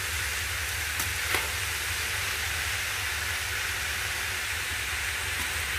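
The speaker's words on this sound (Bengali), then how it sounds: "বন্ধুরা, আমি চাল কুমড়ো সবটা দিয়ে দিয়েছি, এবার এটাকে আমি ভালো করে নেড়ে নেবো" Ash gourd mixed with spices being stirred in a pan, a steady broadband sizzling hiss throughout with a couple of faint clinks of the utensil, no voices.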